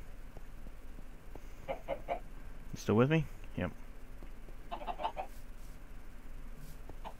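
Minecraft chickens cluck in short, scattered bursts, a louder flurry near the middle, while people talk briefly over them.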